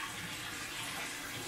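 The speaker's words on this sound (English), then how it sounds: "Are you enjoying your bath, little one?" Warm water in a baby's bath splashes and trickles continuously, a close, even wash of sound with no voices.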